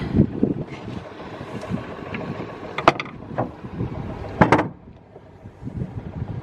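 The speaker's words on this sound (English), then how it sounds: "He's not happy with the engine." A narrowboat engine with a fault runs on a canal cruise between Stoke Bruerne and Cropredy, a rough, uneven rumble mixed with wind buffeting and a few sharp knocks.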